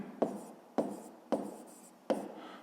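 A pen writes on paper during a fifth-grade math exercise, four quick scratchy strokes at even intervals, each starting sharply and trailing off, close and quiet with no talk.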